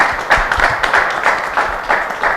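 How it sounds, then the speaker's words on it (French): Audience at a Congolese talk show applauding, a dense burst of clapping with rhythmic swells over about two seconds, close and lively with no voices on top. "on l'applaudit encore une fois"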